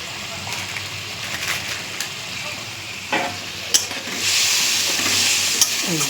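Red chili goes into a sizzling pan for a rui fish curry. Steady frying hiss swells into a louder, brighter sizzle, broken by a few scraping stirs and clicks, with someone speaking now and then.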